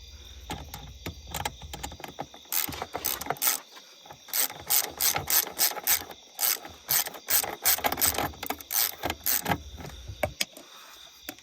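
Ratchet wrench with a 10mm socket clicking while working on an Acura TL air intake install, close and loud, in bursts of rapid ratcheting strokes with short pauses between them.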